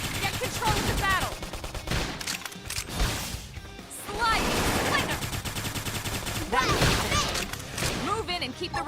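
Gunfire in the video game Xenoblade Chronicles X, with repeated bursts of shots and impacts mixed into dense battle effects, music and in-game voice callouts throughout.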